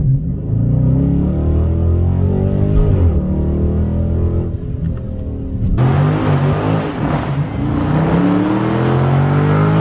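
A Dodge Charger Scat Pack Widebody engine revs hard and roars continuously for about ten seconds on a 0-60 launch, with a sharp surge midway as the tires break loose and spin.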